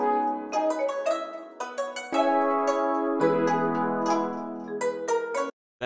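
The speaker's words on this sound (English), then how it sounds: "Then the halftime trumpets with the guzeng sound like this" Halftime trumpet lines over a plucked guzheng pattern in an FL Studio hip-hop beat, with bright brassy sustained notes, a quick stepping plucked melody and a steady groove that cuts out at the very end.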